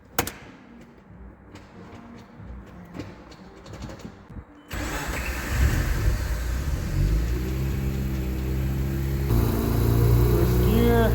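A Mazda RX-8 with a freshly rebuilt transmission sits quietly with light clicks and handling noises, then its rotary engine starts abruptly and runs loud and steady, revving slightly as the wheels spin.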